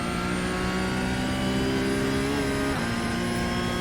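A Porsche 992 GT3 Cup race car in iRacing at Knockhill, engine held at full throttle with a steady high-pitched howl that climbs, dips briefly at a gear change, then pulls on, loud and continuous.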